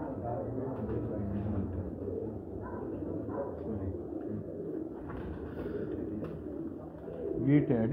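Pigeons at a Pakistani pigeon-keeping loft, with teddy pigeons arriving, give low repeated cooing in overlapping rounds, fairly close, while someone talks in the background.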